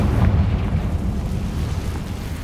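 A Confringo fire spell detonates in Hogwarts Legacy, a dense low rumbling blast that stays loud and sustained, rolling on with a deep boomy roar with no voices over it.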